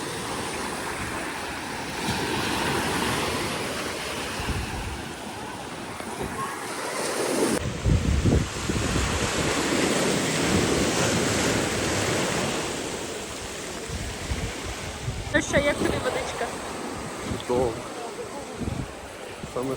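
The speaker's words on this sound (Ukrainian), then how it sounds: "Але тут також, як бачите, хвилі дуже великі." Large ocean waves surge and break along a Dominican Republic shore, a steady loud roar of surf mixed with wind buffeting the microphone, with heavier crashes near the middle and end.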